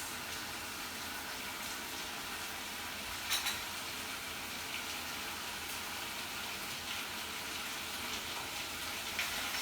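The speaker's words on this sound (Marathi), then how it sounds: "आता हे परतून घ्यायचं छानपैकी आणि गॅस मोठा ठेवायचा." Chilli potato mixture with soy sauce and chilli sauce frying over high heat, a dense, steady sizzle with a few brief louder bursts as it is stirred.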